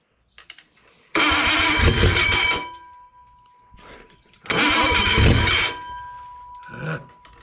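An abandoned 1951 Pontiac Chieftain engine being started for the first time in years, with two loud, close bursts of cranking and roaring engine, each lasting a couple of seconds and separated by a quieter pause.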